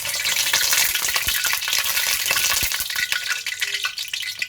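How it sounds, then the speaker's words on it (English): Blended onions poured into a hot pan for a homemade chicken curry, bursting into loud, dense, continuous sizzling and frying close up, with a few faint clinks of stirring and no talking. "So you're going to put the blended onions in now. So we're going to pour it in"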